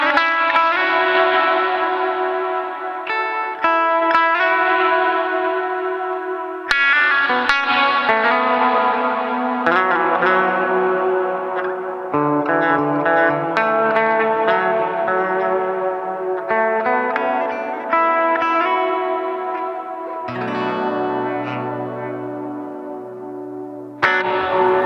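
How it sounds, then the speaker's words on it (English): An Adam Jones signature Les Paul electric guitar on the bridge pickup plays bright picked chords and arpeggios drenched in spacey reverb and echo, loud and sustained with ringing tails, alone without talk. "Spacey reverb on here just for fun."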